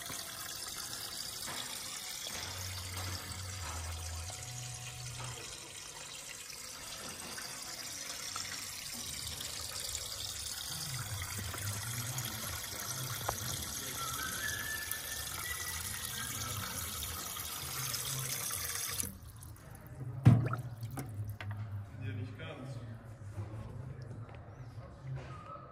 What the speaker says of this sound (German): Wasser läuft.